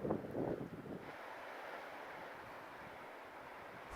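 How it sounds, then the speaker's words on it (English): Sea waves wash against rocks at Port Quin cove in Cornwall, with a louder surge at the start settling into a steady, moderate hiss of surf and wind, with no voices. "the sound of the sea hitting the rocks"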